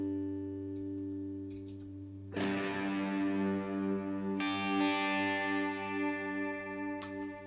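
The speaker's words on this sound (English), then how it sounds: "And then I got a clean one reverb that's kind of light, and then another reverb that's real heavy." Electric guitar run through a heavy reverb pedal, sustained chords ringing out with long washy tails, a fresh strum near the start and another mid-way, loud and close with no talking.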